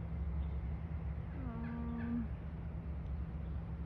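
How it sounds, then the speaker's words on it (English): A single drawn-out wild turkey call rings out at moderate distance over a steady low hum near dusk, otherwise quiet and still. "I can see the turkeys up the road"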